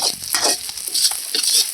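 Garlic and chopped green chillies sautéing in a pan for a Chettinad mushroom pepper fry, cooked outdoors in a village kitchen: a steady close sizzle with scraping stir strokes, no talk.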